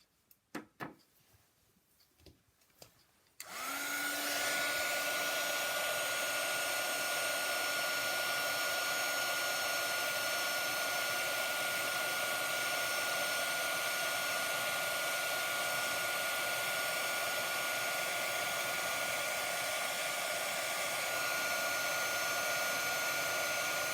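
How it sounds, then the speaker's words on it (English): A heat embossing tool blows hot air over embossing powder on a snowflake craft piece, a steady loud whirring hum that starts after a few light taps and runs alone. "Okay, so heat embossing."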